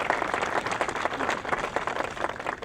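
Crowd applause for Billy and Janice at Billy Crystal's Dreamcourt dedication in Long Beach, NY: a steady wash of many hands clapping, moderately loud and sustained, with no voices over it.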